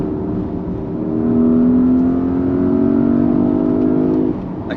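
A Porsche Cayenne engine revs steadily upward to just short of 7,000 rpm, a rising whine building and holding for a few seconds before easing off, loud and close.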